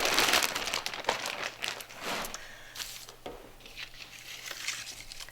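Glue goes back into a plastic Ziploc bag with close, irregular bursts of crinkling and rustling plastic. Quieter handling noises come between the bursts, and no one speaks.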